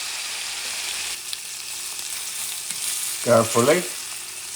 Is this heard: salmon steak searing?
yes